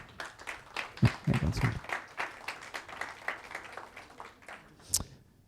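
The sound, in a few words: audience applause for seminar speakers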